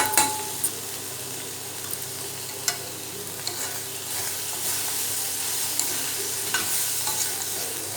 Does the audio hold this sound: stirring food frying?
yes